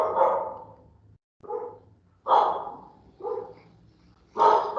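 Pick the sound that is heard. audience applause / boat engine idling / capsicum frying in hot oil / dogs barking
dogs barking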